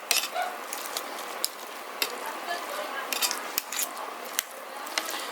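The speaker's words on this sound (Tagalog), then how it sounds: "Naluto na yung special canton. Ayan. Haluin natin." Cooked pancit canton noodles being stirred in a pan, with soft scraping and clinking of a utensil against the pan in irregular strokes, close and fairly quiet over a faint sizzle.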